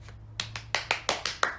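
A run of hand claps, about eight quick, even, fairly close slaps in a steady rhythm with no talking.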